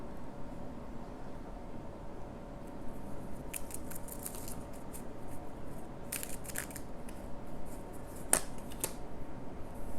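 Tarot cards being shuffled by hand, soft papery riffles and slides in quick irregular bursts against a faint steady background hum, close and quiet with no talking.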